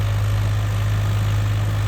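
A Swaraj 855 4x4 tractor runs in medium gear through a rain-soaked field at around 2000 rpm, producing a loud, constant, deep engine drone with a strong low hum and no speech.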